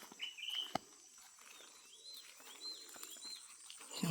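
Birds chirping and calling outdoors on a farm, short bright tweets scattered across the clip at moderate distance over a quiet, steady background, with a sharp knock near the start.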